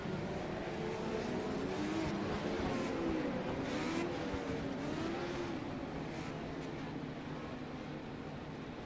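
Legends race cars roll off at the start at Nashville Fairgrounds, their engines droning together in a continuous, wavering rumble with pitch rising and falling as they rev, heard without any voices.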